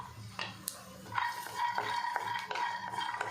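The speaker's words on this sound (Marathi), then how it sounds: "आता त्यामध्ये आपण मिरच्या टाकूयात लसूण टाकूयात लसूण पण चांगला भाजून घेऊयात" Green chillies and garlic roasting in a pan while being stirred, with scraping strokes and soft clinks over a light sizzle, close and fairly quiet.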